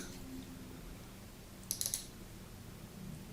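A quick cluster of sharp computer mouse clicks, a double-click, sounds once near the middle against a quiet room hush.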